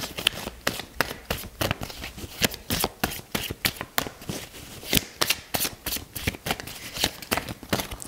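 A deck of tarot cards is shuffled for a reading, giving rapid, crisp riffling bursts in a steady rhythm, loud and close, with no voices.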